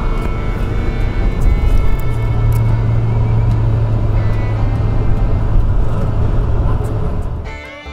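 Truck heading east on Highway 90 across the Biloxi Bay bridge, a steady loud road rumble and engine drone with tire hum that holds throughout, then fades out near the end.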